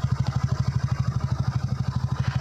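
A TVS Ntorq XT 2023 scooter engine idles just after starting, a steady, rapid low-pitched pulsing thrum close by and alone, with even beats throughout.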